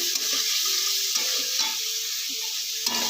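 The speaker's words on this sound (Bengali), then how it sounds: "এবার এটা কিছুক্ষণ ফ্রাই করে নেব" Pasta with spices fries in a pan with a steady bright sizzle and a few soft stirring knocks, close up and without speech.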